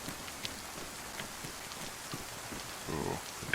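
Steady rain in DayZ on the Livonia map, a constant hiss of drops on surfaces filling the whole moment, with a few brief louder taps and a slightly denser burst near the end.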